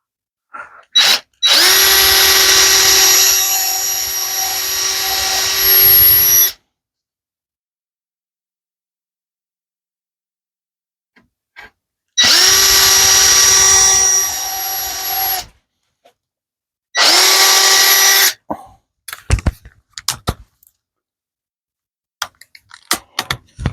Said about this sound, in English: I'm going to drill a hole right through here into that